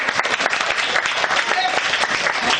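Lively audience applause at a graphology session, dense continuous clapping from a crowd filling the whole stretch at steady loudness.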